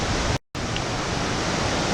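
Hukou Waterfall on the Yellow River roars as a steady, loud broadband rush of falling water, cut by a brief dropout to silence early on before the torrent resumes.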